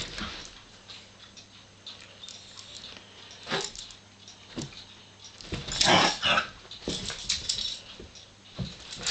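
Puppies sniff and snuffle close by, with short bursts of breathy nosing and soft patter. A louder flurry comes in the middle, over a quiet background.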